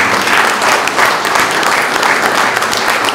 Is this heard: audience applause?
yes